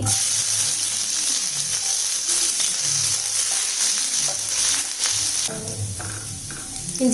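Mustard seeds and ginger sizzling in hot oil in a pan, a continuous bright frying hiss with small crackles and pops, close and steady throughout, no voices.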